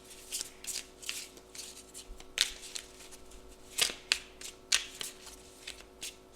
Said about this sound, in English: I could just show you how nice it is to shuffle this deck.